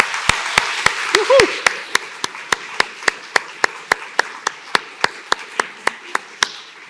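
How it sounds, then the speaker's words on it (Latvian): Audience at the opening of a circular economy forum in Latvia clapping, a steady run of evenly spaced sharp claps, fairly close and crisp, with a brief voice early on. "Mums vajadzētu viens grandiozs aplausus, lai visi ārā dzird, ka mēs sākam."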